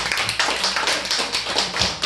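A church congregation claps together during a sermon, a steady dense patter of many hands filling the room at close range with no talk over it.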